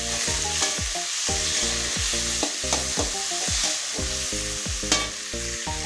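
Onions and tomato frying in a pan with turmeric and salt, a steady sizzle broken by repeated scraping stirs and occasional clinks, close and fairly loud with no talking.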